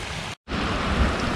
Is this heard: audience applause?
no